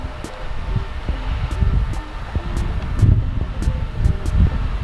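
Gusty wind lashes flags at Hunter Valley Gardens in Pokolbin, NSW, a continuous rough flapping and rustle with periodic sharper snaps, fairly loud and close, no voices.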